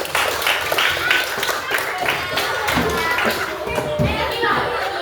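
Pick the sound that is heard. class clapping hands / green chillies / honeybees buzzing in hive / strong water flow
class clapping hands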